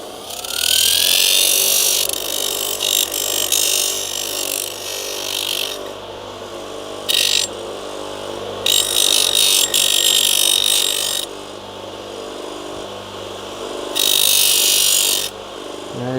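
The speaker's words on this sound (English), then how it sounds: "what I'll do now is I'll grind off the excess" A power tool grinding off excess material, buzzing loudly in repeated bursts of several seconds each with short pauses between, close up.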